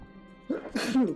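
A single sneeze at moderate distance: a short intake of breath, then a sharp burst that fades quickly, heard alone.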